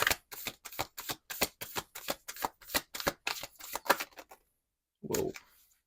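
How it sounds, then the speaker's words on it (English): A deck of cards riffled in a rapid series of crisp, clattering bursts, close and loud, then a pause before one final soft shuffle. "The quality of this deck, it's good. It's just a little hard to shuffle."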